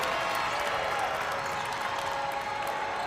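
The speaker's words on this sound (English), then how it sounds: "This crowd coming alive here in the Holmes Convocation Center." A basketball crowd cheers in the Holmes Convocation Center during a Georgia Southern at Appalachian State game, a steady, dense roar of voices and applause holding at an even level throughout.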